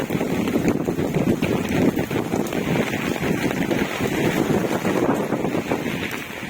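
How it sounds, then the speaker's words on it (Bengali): Strong wind gusts during a heavy rainstorm beside a flooded highway, producing a steady, loud, rushing roar with turbulent buffeting on the microphone throughout. "বিশাল হাওয়া দিচ্ছে"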